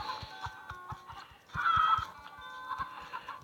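Chickens cluck in short repeated bursts with a rhythmic soft tapping underneath, from the Egg Inc. farming game; the sound is close, fairly quiet and heard with no talk.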